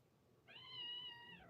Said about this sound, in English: I could tell by your meow.